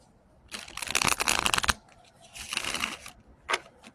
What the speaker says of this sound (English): I love shuffling.